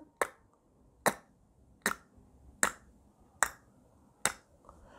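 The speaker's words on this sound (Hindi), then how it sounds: "आपको अपने जीप से टक की आवाज़ निकालनी है इस तरह से" Six sharp, crisp tongue clicks against the palate, spaced roughly evenly, about one per second, close and clear against near silence.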